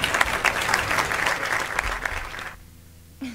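Loud crowd applause at a live provincial music broadcast keeps up steadily for about two and a half seconds, then cuts off, leaving a quiet low hum with a faint stir at the end.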